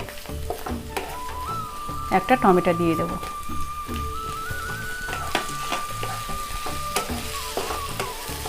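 Tomato sizzles and crackles in hot oil in a pan with garlic and ginger paste for chicken khichdi, a steady frying hiss with stirring scrapes, under continuous talk.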